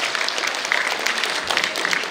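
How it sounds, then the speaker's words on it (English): An audience at a leadership event breaks into applause: dense, even clapping from many hands, fairly close and continuous, with no pauses. "Give her a round of applause."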